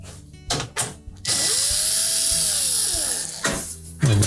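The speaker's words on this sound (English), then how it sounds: "We'll simply remove the screws that secure the access panel in place. These are typically a 1/4 inch hex head screw." A power driver backs out quarter-inch hex head screws from the access panel of a GE range, a few short bursts and then one sustained high whir, close and loud, with no voices.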